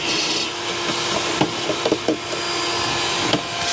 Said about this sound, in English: I'm going to also vacuum this out